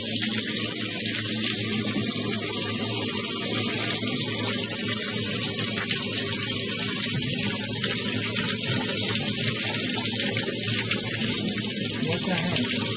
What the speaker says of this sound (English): the shower looks like it doesn't really work.